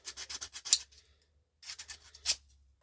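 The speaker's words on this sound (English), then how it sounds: "Hit it with a file." Two short bursts of a file scraping across a piece of scrap metal to check whether it is stainless steel, quick rhythmic rasping strokes, close and fairly quiet, with no talk.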